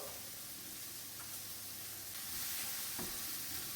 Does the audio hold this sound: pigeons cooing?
no